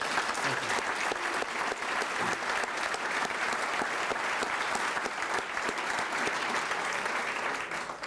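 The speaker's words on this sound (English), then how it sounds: "let's have one last round of applause for tonight's honorees." Audience at an evening honors event applauds continuously, a dense, steady wash of clapping from a large crowd that holds at an even level throughout.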